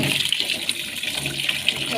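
Dried stingray pieces are washed in water, a close, continuous splashing and gushing over two seconds.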